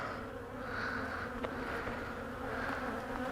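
Honey bees swarm around an opened hive infested with small hive beetle larvae, producing a dense, steady buzz that stays close and continuous throughout, with no talking.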